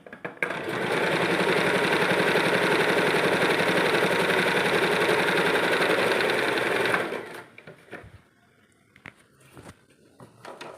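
An Usha Janome sewing machine runs steadily under foot-controller power for about seven seconds, a loud continuous whir, then stops, leaving faint clicks and handling noises.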